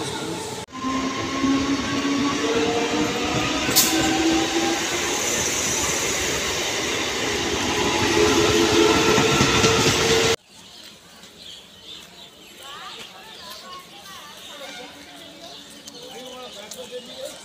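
A Howrah local train rumbles past near Bagnan station, wheels clattering loudly with high squeals, until the noise cuts off abruptly and a quieter scene with birds and faint talk follows.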